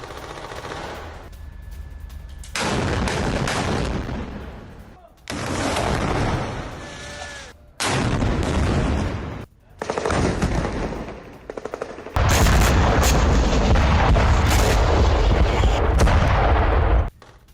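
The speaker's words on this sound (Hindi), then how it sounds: "उत्तरी गाजा के कई इलाकों में टैंक से हमले किए गए हैं" Tank fire in North Gaza during news coverage: loud, heavy bursts of booming gunfire that come in several separate volleys, with short pauses between them and a long sustained barrage at the end.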